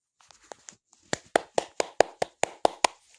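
Hand clapping during a French Twitch stream, nine or ten crisp, evenly spaced claps close to the microphone, preceded by a few softer, lighter taps, with no talk.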